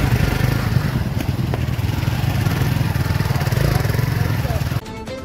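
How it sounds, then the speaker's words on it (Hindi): Motorcycles carry a district officer's team through the remote diara riverbank area, with a steady, loud engine drone close by that cuts off abruptly near the end. "पूरी टीम के साथ बाइक से दियरा के दुर्गम इलाके में निरीक्षण के लिए निकले जिला अधिकारी"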